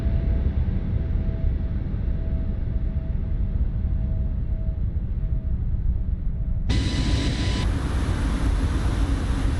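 An Airbus A320neo jet in Microsoft Flight Simulator sweeps past in a flyby, a loud steady engine roar with a thin whine, joined near the end by a sharp high-pitched tone.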